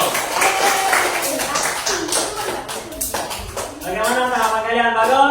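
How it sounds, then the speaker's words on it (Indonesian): A classroom audience claps for a group that has just presented, a quick burst of scattered hand claps at the start that fades as a voice begins speaking. "Tepuk tangan untuk kelompok 1."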